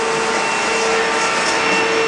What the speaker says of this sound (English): So we're gonna run the vacuum cleaner through it.